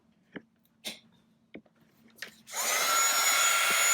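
A plugged-in heat tool used to shrink plastic for earrings switches on after a few small clicks and handling sounds, then blows a steady loud whooshing hiss close by.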